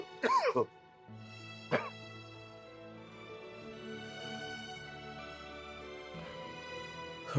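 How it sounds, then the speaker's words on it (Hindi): An older man with a seasonal cough in a Pakistani drama scene coughs in a few harsh bursts, two close together near the start and another later, over a soft sustained musical background. "मौसमी खांसी ने जकड़ रखा है।"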